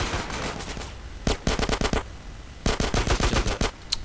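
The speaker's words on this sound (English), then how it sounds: "Oh, AK-47." Automatic AK-47 fire in the video game GTA San Andreas, two sharp rapid bursts of shots after a low background rumble, loud and close with no talk.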